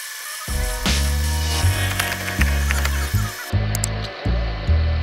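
A power tool whines in repeated bursts as a larger milling cutter grinds out a broken bolt remnant in a Ford 1.6 engine cylinder block, starting and stopping in a steady rhythm, close and loud.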